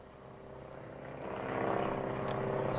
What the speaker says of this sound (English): See, now the plane's going overhead.